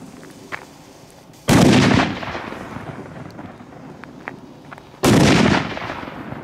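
Fireworks going off outdoors, two loud sharp bangs a few seconds apart, each followed by a crackling, rumbling decay over a quiet background, with no talk.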